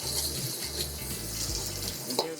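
Onions crackling in shimmering hot oil in a wok, a steady broadband sizzle with a watery hiss, close and continuous, brief soft bumps from stirring and faint low hum beneath.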